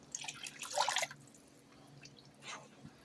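Water from a quart container poured into a pot of taco soup containing rice, a brief splashing pour near the start followed by quieter trickling and a few drips.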